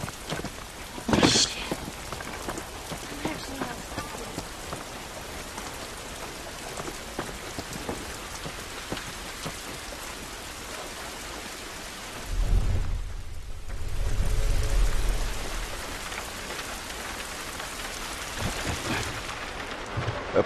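Steady rain pattering on surfaces in the video game The Last of Us, with a low rumble of thunder rolling through midway; no voices.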